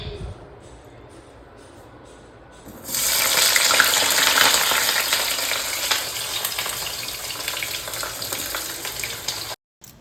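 Potato and pointed gourd curry sizzles loudly in a pan after a quieter start, a dense steady frying hiss that fills the scene before cutting off near the end.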